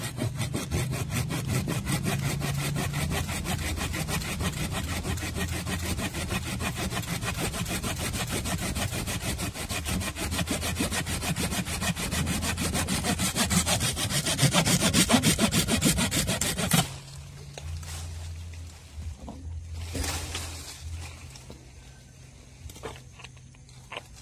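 A handsaw cuts through a grafted citrus tree branch just above the graft. Rapid, rhythmic rasping strokes continue close and loud for about seventeen seconds, then the sawing stops and only a few faint scrapes and rustles follow.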